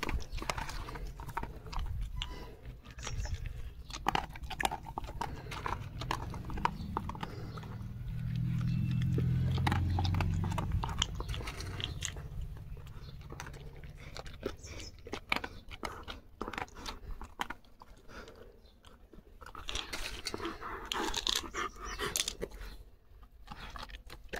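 A dog crunches and chews grapes up close, giving repeated wet biting and crunching sounds with soft rustling and occasional footsteps-like knocks, fairly quiet throughout.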